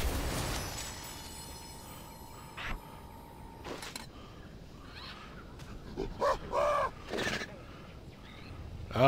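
Zergling pet from a video game chittering with a few brief creature calls, clustered near the end over a low background hiss.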